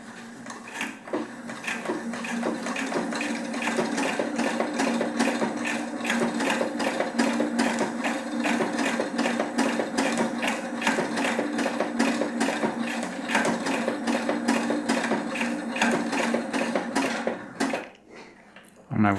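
A Husqvarna Topaz 25 sewing machine stitching a bag seam runs at a fast, even rhythm of needle stabs, loud and close, for most of the stretch before stopping near the end.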